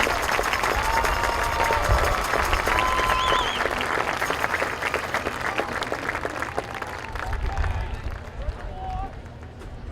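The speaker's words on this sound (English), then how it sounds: "Let's give both Mallory and her brother Nick a round of applause." A football stadium crowd gives sustained, broad applause that stays loud and steady before tapering off near the end, with an announcer's voice heard over the cheering.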